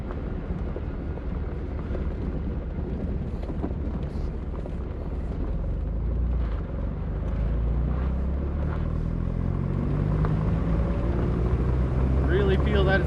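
A 1987 Porsche 924S engine runs on a first drive, a loud continuous low rumble with a rising engine tone toward the end, and people talking over it.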